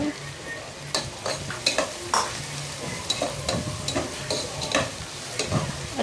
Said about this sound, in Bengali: আর এখানে আমি চিংড়ি মাছটা ভাজা দিতে দিছি